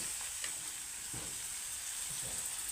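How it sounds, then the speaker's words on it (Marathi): Chopped onion, tomato and spices frying in oil for a Maharashtrian dal, a constant bright sizzle and hiss with a few soft stirring sounds, close by and without talk. "टमाटो पण घालवू द्या मस्त छानपैकी तेलामध्ये फ्राय होऊ देता"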